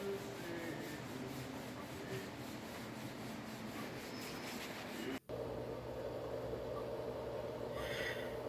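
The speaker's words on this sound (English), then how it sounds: "And this is video of me doing the sanding phase 2 and phase 3." Wooden autoharp chord bar holders are sanded on an upside-down plane sander, giving a steady, continuous abrasive rubbing and whirring with a brief dropout partway through.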